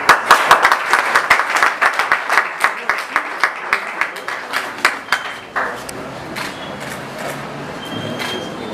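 Audience applause at a certificate ceremony starts loud and brisk, settles into a slower, rhythmic group clap, then dies away after about five seconds, leaving quiet room noise.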